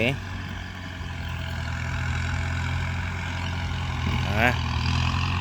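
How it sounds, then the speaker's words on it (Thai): A tractor engine, the MU 57 02, runs steadily while working on building a road, a continuous low rumbling drone close by with a brief higher squeal partway through. "มาแต่ รถไถ"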